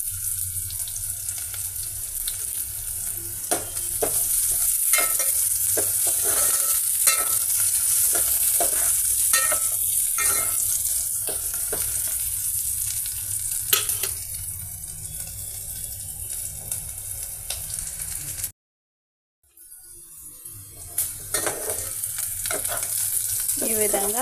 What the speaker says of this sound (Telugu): ఒక నిమిషం పాటు ఆయిల్లో ఈ onion pieces, curry leaves, green chilli pieces, పోపు మసాలా సీడ్స్ అన్నీ